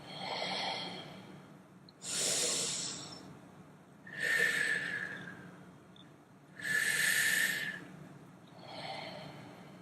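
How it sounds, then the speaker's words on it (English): Slow, deliberate breaths in a breathing exercise, five long airy inhales and exhales alternating between nose and mouth, each swelling and fading with quiet pauses between. "Exhale through the nose. Inhale nose. Exhale mouth. Inhale mouth. Exhale, nose."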